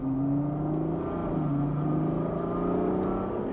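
A 2016 Ferrari GTC4Lusso with its naturally aspirated V12 of nearly 700 hp accelerates on the Autobahn, its engine note rising steadily as a smooth continuous drone heard from inside the cabin, with no talking.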